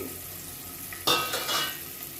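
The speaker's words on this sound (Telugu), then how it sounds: "ఎగ్స్ కొంచెం ఫ్రై చేసుకోవాలండి" Eggs fry in a pan for a garlic-chili egg dish. A low steady hiss runs throughout, then after about a second a louder burst of crackling sizzle and stirring takes over, close and alone.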